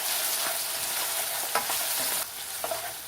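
Carrots cook down in butter in a pan with a continuous close sizzle and a few soft stirring scrapes. The sizzle drops slightly partway through.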